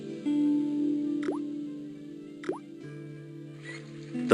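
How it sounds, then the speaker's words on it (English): Water dripping from a rusty faucet in the Broken Sword game, with a few distinct plopping drops spaced about a second apart over a steady low ambient hum. "I shut off the faucet as tight as I could, but it kept on dripping."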